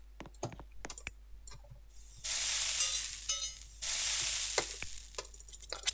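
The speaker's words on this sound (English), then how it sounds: "It's like if I touch, everything fries." Food sizzles and fries in the Restaurant Tycoon 3 video game, two steady loud hissing stretches broken by clicks and keyboard tapping, with no talk over it.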